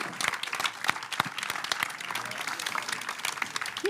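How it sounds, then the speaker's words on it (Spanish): Audience at a film academy event with Danny Boyle, Aaron Taylor-Johnson and Jodie Comer applauding: steady, fairly full clapping from a crowd in a hall, continuous throughout. "Por favor, aplauso."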